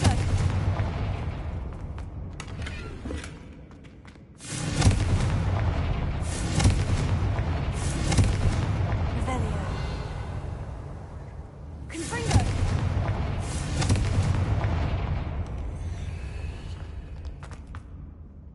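Confringo fire spells burst in Hogwarts Legacy video game, two heavy booming blasts that each trail into a long rumbling roar, loud and close.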